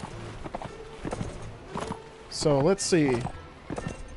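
A horse gallops in Mount and Blade Warband, a video game, with rhythmic clip-clop hoofbeats and a brief horse cry under someone talking.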